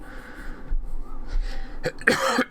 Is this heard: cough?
yes